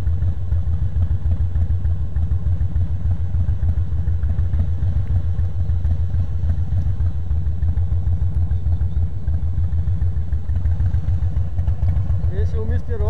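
A Harley-Davidson Fat Boy motorcycle cruising on a road trip near Praia do Cassino, its engine rumbling low and steady with a constant throb throughout, close and loud, while a rider speaks over it.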